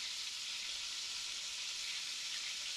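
Southern fried chicken pieces cooking in hot oil, a steady close sizzle and crackle of frying that holds even throughout, with no voices.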